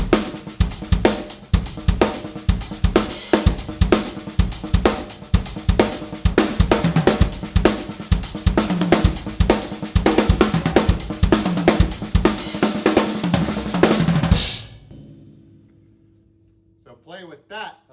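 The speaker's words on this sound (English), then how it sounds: "where you just add a little 2 16th notes on the front of that pattern on the hi-hat." Drum kit playing a songo groove with two quick 16th notes added on the hi-hat at the front of the pattern, a steady busy loop of kick, snare and cymbal hits that stops abruptly near the end before a brief voice.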